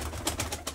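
Domestic pigeons cooing in a short, soft burst of repeated low calls, close by with a steady background hum and no talking.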